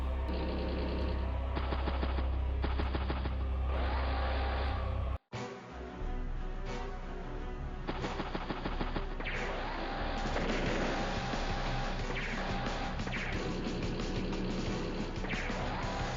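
Video game gunfire and artillery hits from Advance Wars: Days of Ruin crackle in rapid, dense bursts over a backing soundtrack, broken by a brief drop to near silence before the combat noise resumes.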